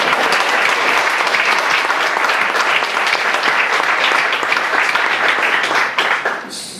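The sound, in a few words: audience applause for musicians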